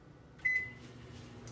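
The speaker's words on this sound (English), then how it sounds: "I got some milk in the microwave, so I'll just warm it for" A microwave oven warming milk gives a single short, clear beep, then a low, steady hum from the running appliance.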